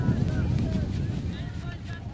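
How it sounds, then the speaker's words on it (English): Wind gusting across the microphone at an outdoor ultimate frisbee game, a loud low rumbling roar that fills the whole moment, with faint background sounds above it. "The wind's just picked up again."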